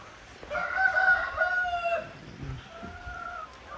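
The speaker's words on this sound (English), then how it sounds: "I don't know if you guys can hear the chickens" A rooster crows in long drawn-out calls while chickens cluck faintly in the background of a noisy outdoor farmyard.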